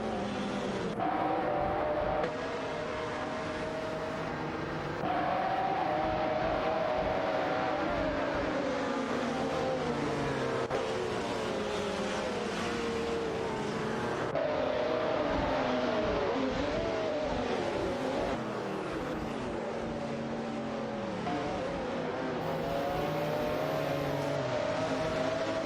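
Race cars, among them a Lamborghini Diablo, speed around a track in an AI-driven racing game. Engines whine and rev continuously, their pitch rising and falling as they shift gears and pass close by.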